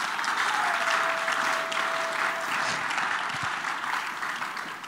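A church congregation applauds loudly and steadily at a charismatic sermon, a dense wash of clapping that holds for the whole stretch with only slight easing toward the end.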